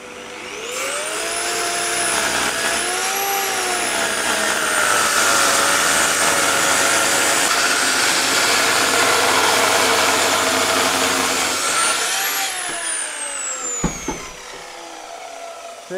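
A workshop vacuum cleaner hums loudly and steadily while a birch-plank dining table is being built, with its pitch whining up and down and a few knocks near the end as it winds down.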